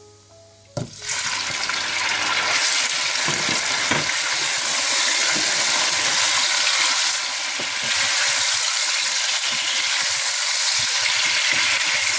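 Chicken dropped into hot oil with whole spices bursts into a loud sizzle after a sharp splash, then keeps frying steadily up close with scattered stirring clicks and scrapes.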